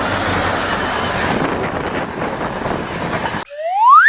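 A steady loud rumble of a running train fills most of the stretch, then cuts abruptly to a rising tonal sweep at the end.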